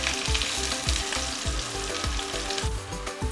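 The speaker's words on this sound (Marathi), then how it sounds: "कांदा गोल्डन ब्राऊन होईपर्यंत चांगला परतायचा आहे" Onion with mustard seeds frying in oil in a pan, a steady loud sizzle with a regular rhythm of stirring scrapes throughout, no voices.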